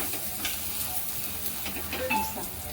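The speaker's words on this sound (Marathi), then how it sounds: "दोन्ही बाजूने मस्त असा खरपूस भाजून घ्यायचा" Sabudana thalipeeth roasting in oil on a pan, giving a continuous close sizzle and crackle with faint scraping, steady and unbroken throughout.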